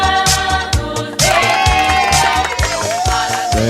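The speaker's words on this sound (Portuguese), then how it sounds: "A musiquinha do parabéns vem pra você, e cheio de palmas" Loud group singing of the Brazilian birthday song Parabéns pra Você, backed by music and steady rhythmic clapping that keeps a regular beat throughout.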